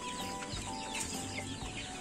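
Chickens cluck and murmur in a three-tier coop on a narrow plot, a close, steady chorus of overlapping soft calls with no talking.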